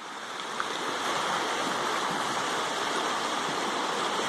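Rain-swollen river in Guaranésia, Minas Gerais, rushing in a steady, broad wash of water noise that stays even throughout, with no one talking.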